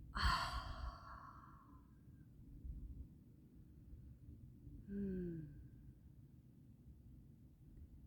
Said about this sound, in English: And as we breathe out, let that air out.